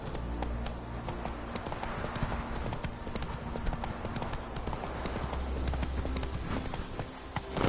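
Horse hooves clip-clop in a brisk, steady rhythm throughout a stretch of The Witcher 3: Wild Hunt, close and constant over a low ambient bed.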